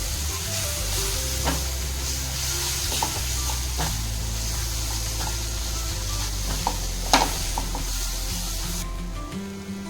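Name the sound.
stirring and sizzling spices in a pan for butter paneer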